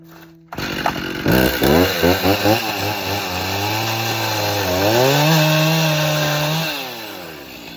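A chainsaw revs up in a few bursts, then runs loud and steady as it trims a wood overhang on a cattle feeder roof, its pitch shifting under load before easing off.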